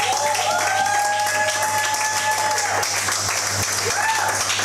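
Church congregation applauding together, a steady wash of clapping with sustained singing or organ-like tones and voices mixed in throughout.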